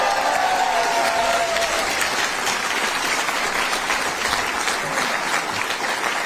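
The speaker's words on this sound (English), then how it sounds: "Give her a big round of applause." Audience applause at a Conservative political event, a steady, dense round of crowd clapping that keeps going at an even level throughout.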